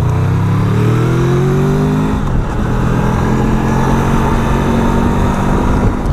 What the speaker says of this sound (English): Lovely, beautifully handling motorcycle, and it sounds absolutely gorgeous